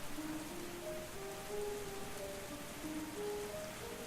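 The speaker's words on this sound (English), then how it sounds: "We all want out of the rain." Steady rain falls in a video game, a soft, even hiss on surfaces with faint tonal game music underneath and no voices.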